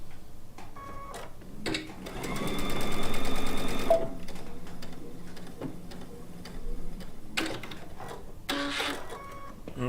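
A sewing machine stitches about an inch along a fabric chicken pin cushion, a short burst of rapid mechanical whirring between quieter handling clicks and taps nearby.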